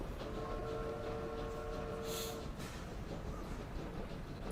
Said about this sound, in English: Kivuzi Kimpanzu intends to travel across Congolese Gabon by train to the Free Trade Party